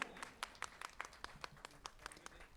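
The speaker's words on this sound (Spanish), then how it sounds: "Fuerte las palmas, Trujillo de mis amores." Audience applause during a solemn bicentennial ceremony session in Trujillo, Peru: a steady patter of claps from a modest crowd, fairly faint and sparse, with individual claps standing out over a quiet hall.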